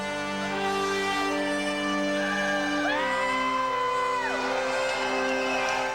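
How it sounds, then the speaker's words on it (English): A crowd at a mixed martial arts event at New Orleans Lakefront Arena whoops and shouts, loud and sustained, with rising and falling yells that stand out above the general din. "Listen to this crowd."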